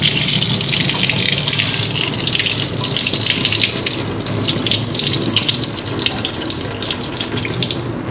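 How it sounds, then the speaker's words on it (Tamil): Rice and lentils are washed under a running kitchen tap, a steady loud gush of water splashing into a sink that continues without pause throughout, with no talking. "அரிசி பருப்பை வந்து கழுவி எடுத்துக்கலாம் நம்ம."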